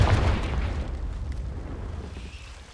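A Confringo fire-blast spell exploding in the video game Hogwarts Legacy: a loud, close, deep boom that fades into a rumbling tail over a few seconds.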